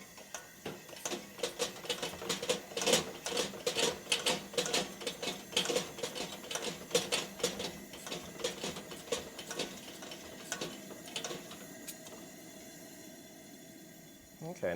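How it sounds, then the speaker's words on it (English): Someone hand-pumps the fuel tank of a Coleman camp stove, giving a rapid series of squeaky, rhythmic mechanical strokes that slow and fade toward the end. "I give it additional pumps."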